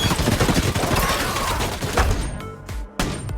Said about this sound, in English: she mounted the heavy machine gun and joined the fight. Under the barrage of fire, the monsters were riddled with holes